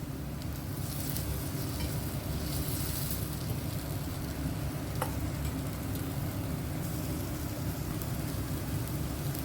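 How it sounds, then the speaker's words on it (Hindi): Chicken pieces fry loudly in a pan of hot oil, a dense, even sizzle and crackle that holds steady with no voices. "ऐसा गोल्डन कलर आने तक दोनों साइड हमें इसे फ्राई करना है"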